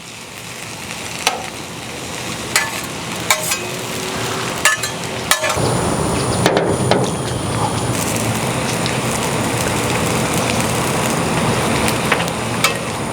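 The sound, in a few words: butter melting and sizzling on a Blackstone griddle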